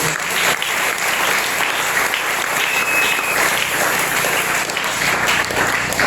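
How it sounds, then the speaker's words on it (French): A church congregation breaks into sustained, dense applause that fills the room at an even loudness for the full six seconds, with a faint murmur of voices mixed in. "Est-ce que tu peux acclamer la parole?"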